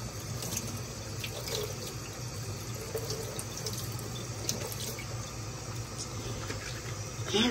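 Tap water runs steadily into a kitchen sink while collard greens are rinsed, a continuous close hiss and splatter with occasional sharper splashes.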